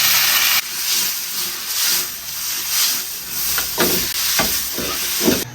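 Loud, sustained hissing sizzle of tomatoes hitting hot oil with fried scallions in a wok, a strong steady roar that eases slightly and then carries on with crackling spits, no talking.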